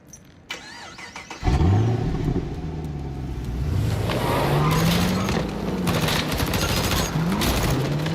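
A hot rod car's engine in the video game Quantum Break starts up and revs loudly, its pitch rising and falling steadily, with a sharp mechanical burst just before ignition.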